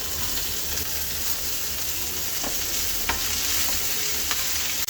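Cumin seeds and green chilies sizzle and crackle loudly in a hot frying pan, a dense, steady frying hiss broken by a few sharp pops and stirring scrapes.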